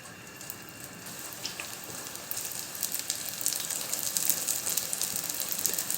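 Steady crackling sizzle of a dough pastry frying in hot sunflower oil in a pan over medium heat, growing slightly louder and busier with popping spatters.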